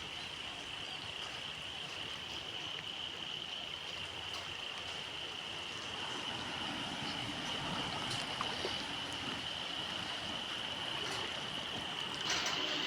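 Heavy rain pours onto a thermocol house, mixing with running water into a steady, dense hiss that holds unbroken throughout, with no voices.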